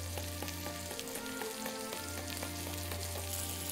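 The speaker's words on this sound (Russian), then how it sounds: "обжаривать все овощи мы будем вместе" Chopped vegetables with celery and onion fry steadily in a pan, a dense continuous sizzle with scattered crackles and occasional stirring scrapes, close and fairly loud with no talking.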